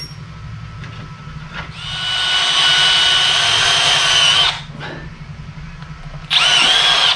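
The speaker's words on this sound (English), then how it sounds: "mark where I want my locking bolts and drill for those and tap those out" A power drill boring holes in metal for locking bolts on a milling machine power feed setup, with two loud sustained whining runs, the first several seconds long and the second starting near the end, over a low background hum.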